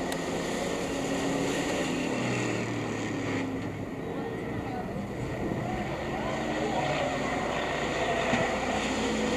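Race cars roaring on a racetrack at the green flag start, a continuous droning mass of engines with rising and falling passes, heard at a distance under broadcast commentary.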